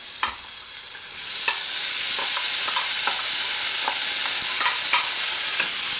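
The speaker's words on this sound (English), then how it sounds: "take a teaspoon of the butter, melt it into this small frying pan, and we're going to saute our tomatoes and vegetables here very quickly" Tomatoes and vegetables sauté in melted butter in a small preheated frying pan, a steady loud sizzle rising after the first second, with repeated scraping and stirring clicks throughout and no talking.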